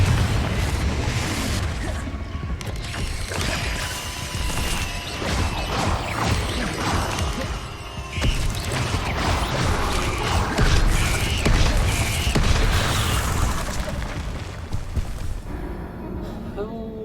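Confringo spell explosions in Hogwarts Legacy, a fantasy action game: a dense run of crashing blasts, whooshes and impacts that continues throughout, with a voice shouting over the din.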